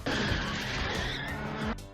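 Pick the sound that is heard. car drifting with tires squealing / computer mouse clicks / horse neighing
car drifting with tires squealing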